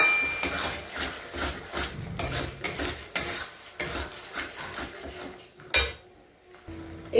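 Spice masala with garam masala being stirred and fried together in a pan over low-to-medium heat, a metal spoon scraping and clattering against the pan in steady repeated strokes with a faint sizzle underneath, close and without talk.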